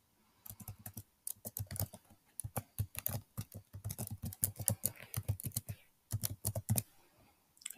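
Fingers type on a computer keyboard close up, producing rapid bursts of crisp key clicks with brief pauses between runs, entering details into an online company registration form, with no voices.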